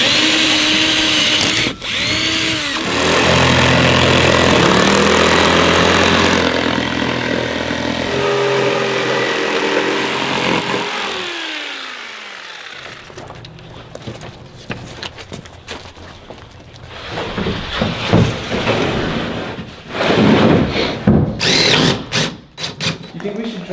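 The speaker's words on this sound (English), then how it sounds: "Strategically drill these in, because I mean we're gonna feel these through the carpet big time." A power drill whirs in sustained bursts driving screws during a van conversion, then quieter intermittent tool noise and clatter follow, recorded close by with no talking.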